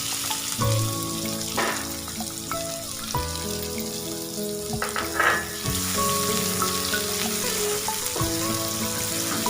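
Chopped onion sizzles in hot oil with garlic for a south Indian brinjal dish, a steady close frying hiss with occasional utensil clinks and stirring scrapes, no voices.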